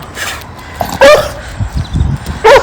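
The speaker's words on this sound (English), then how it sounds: "There's a dog in the garden somewhere." A dog barks a few times somewhere in a garden, with short sharp yips spaced unevenly and fairly close, no talking.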